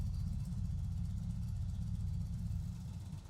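An Indian motorcycle 111/116 engine idles nearby with a low, steady rumble that holds even throughout.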